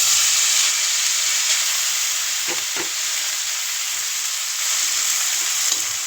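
Hot oil sizzles loudly and steadily while spicy noodles are cooked, a constant bright hiss with a few faint knocks underneath.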